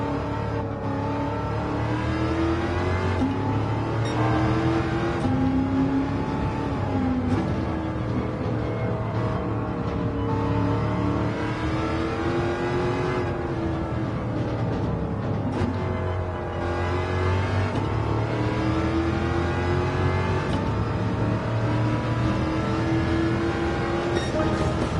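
Engine of a Shelby Daytona race car in Gran Turismo 7, a steady loud drone with rising and falling revs as gears shift, running continuously without a pause and with no talk over it.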